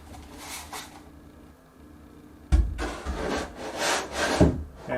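A hollow wooden shelf slides onto a hidden fastener, giving a close, loud wooden scrape and knock that builds from faint rubbing into a heavier thud and rub near the end.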